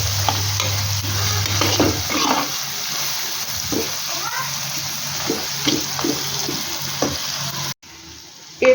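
Spices sizzle and fry in a pan for chicken kosha while a spoon stirs them repeatedly, making scraping strokes over the crackle. The sound is close and fairly loud and drops out briefly near the end.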